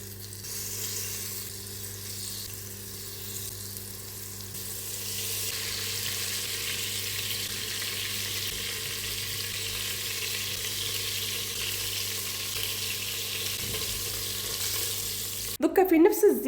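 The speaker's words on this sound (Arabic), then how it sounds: "ونحط الكويرات تاعنا يتقلاو له في هذا الزيت اللي لازم يكون سخون" Flour-coated chicken balls fry in hot oil with a steady, broad sizzle that swells and holds close-up throughout, ending in a brief clatter of utensil movement.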